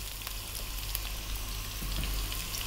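Onion and chili frying in a pan with curry leaves over medium heat, a steady close hiss and crackle of sizzling oil running throughout, with no talk.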